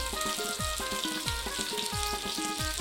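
Bangda mackerel fries in a pan with garlic, a steady soft sizzle under a rhythmic repeated tapping and scraping as the fish is turned.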